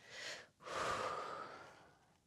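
Breathing during a yoga sun salutation: a brief inhale followed by a longer, airy exhale, close and soft, alone without talk.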